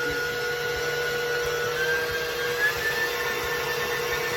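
An electric mixer creams egg and vanilla into snickerdoodle dough, a steady close motor whir with a faint rising whine as it runs at speed, continuous without pauses or voices.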